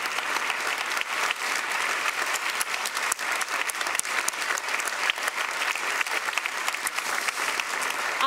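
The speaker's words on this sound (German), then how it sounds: "Ja, Applaus." An audience claps steadily at a Baden-Württemberg state parliament event on tradition, women and the future, dense applause holding at an even level throughout with no voices rising above it.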